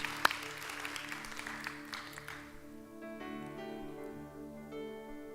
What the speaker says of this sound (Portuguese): Celebre ao Senhor com suas palmas, rendendo graças a Ele por todas as bênçãos.